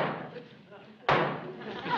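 A single sharp karate chop strikes a door, landing as one loud, close thud midway through, under background sitcom voices and studio noise.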